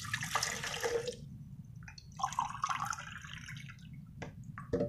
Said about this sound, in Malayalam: തണുത്ത വെള്ളം ഒഴിച്ചെടുക്കണം.